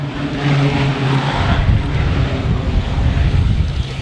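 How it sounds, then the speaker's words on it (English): A jet aircraft touching down at Farnborough Airshow with maximum reverse thrust, a loud continuous broadband roar with steady low engine tones, heard close and buffeted by wind on the microphone. "So we're going to use max reverse thrust to come in on that parking bay."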